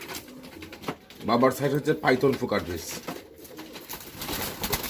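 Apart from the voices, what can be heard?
racing pigeon cooing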